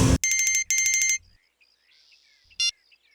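An electronic phone ringtone rings as a call comes in, two loud bursts of repeating tone, then quiet, with a short chirp near the end.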